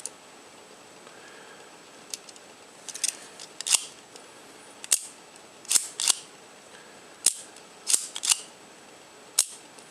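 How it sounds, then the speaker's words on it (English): A Kiev 30M spy camera shutter is tripped repeatedly at different speeds, producing a series of close, crisp mechanical clicks, some paired, roughly every second, with no talk. "I'll let you hear the different shutter speeds here and how they sound."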